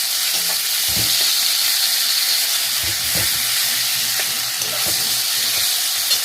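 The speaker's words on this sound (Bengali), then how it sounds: "আদা রসুন বাটাটা একটু কষিয়ে নিয়েছি" Ginger-garlic paste sizzles and fries in a pan, a steady close hiss with occasional stirring scrapes and soft clinks running throughout, no talking.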